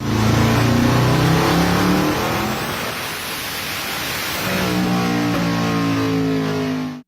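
A land speed race car engine making a full pull: a loud, sustained roar that climbs in pitch, eases off briefly in the middle, then surges again before cutting off abruptly.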